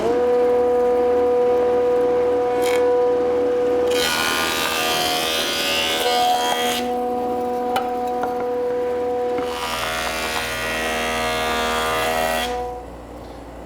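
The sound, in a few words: jointer flattening one side of a wooden board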